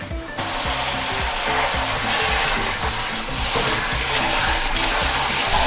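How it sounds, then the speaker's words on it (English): Cabbage leaves rinsed in cold water for small batch kimchi, a steady rushing splash with rhythmic sloshing and rubbing of leaves, close and continuous. "Rinse the leaves in cold water 3 to 4 times."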